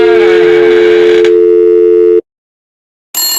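An out-of-service telephone number tone: a loud, steady electronic tone holds for about two seconds, cuts to silence, then another tone starts near the end, with no voices.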